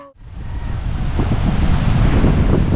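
Strong wind at a seaside shore roars and buffets the microphone, building within the first second into a loud, rushing blast that keeps going.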